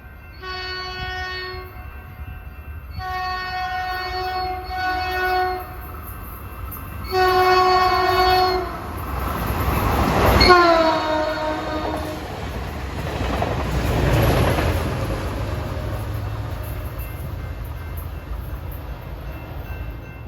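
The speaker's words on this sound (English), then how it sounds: "Approaching at 5:36 is Baby Bullet 709" Caltrain Baby Bullet 709 approaching a station, sounding a loud, repeated multi-tone horn in several blasts, followed by the rumbling roar of the train rolling past with rail clatter, no voices heard.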